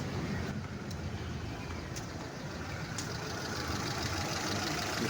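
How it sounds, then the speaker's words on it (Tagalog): A Mitsubishi Lancer GLXi car engine idles quietly and steadily, a low continuous hum with faint periodic ticks, heard alone without talking. "Napakatahimik ng makina."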